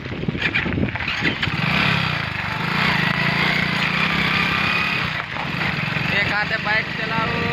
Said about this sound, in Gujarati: બાઇકલાન ડુંગરની અંદર ફરવા નીકળ્યા છે